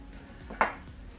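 Maybelline Fit Me loose powder tapped out of its container into the lid, a single faint plastic tap in an otherwise quiet moment.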